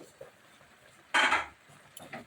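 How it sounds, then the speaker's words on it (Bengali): A metal lid comes off a cooking pot of simmering taro-flower curry in a single loud clank and scrape, followed by faint light clinks of utensils. "ঢাকনাটা খুলে দিচ্ছি"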